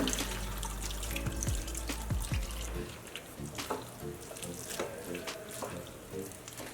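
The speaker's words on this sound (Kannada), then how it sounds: "ನಾಲ್ಕು ಬೇಯಿಸಿರೋ ನೀರು ಸೇರಿಸ್ಕೊಳ್ಳೋಣ" Cooking water pours into a pot of palak khichdi with boiled dal and rice, a steady splashing stream for a few seconds that thins into scattered drips and light liquid trickles.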